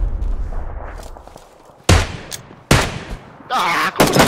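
Gunfire in the battle royale game PUBG during a squad match: a few sharp, loud shot bursts cut through low background rumble, with one sustained blast near the end.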